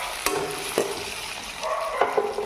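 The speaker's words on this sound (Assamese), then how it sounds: "আৰু এয়া এতিয়া আলু ভাজিলোঁ।" Potatoes frying in a pan, a soft steady sizzle with a few sharp clinks of stirring, fairly faint and with no voices.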